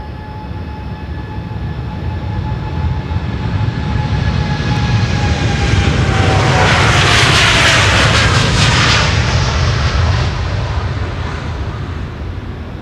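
Eight-year-old Boeing 787-9 Dreamliner taking off from Amsterdam Schiphol's Polderbaan runway 36L, bound for Minneapolis, a loud jet roar building to a close peak with falling whine tones, then a long steady rumble, no voices.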